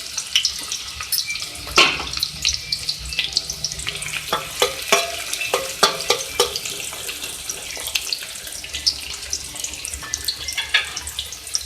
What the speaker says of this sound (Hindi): इसमें मैं प्याज ऐड करूँगी एक मीडियम साइज़ की, इसको जो है फ्राई करेंगे।